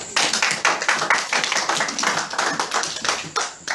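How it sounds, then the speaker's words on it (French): Lively, rhythmic group clapping at a church gathering, a brisk, close and fairly loud burst of hands beating in quick, steady pulses with no talking over it. "Applaudissons pour lui"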